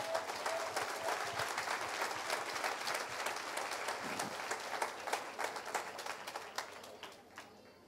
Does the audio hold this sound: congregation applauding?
yes